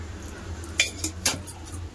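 A spoon clinks against a bowl while semolina batter is mixed with cold milk for malpua, a few quick close metallic taps over a quiet background.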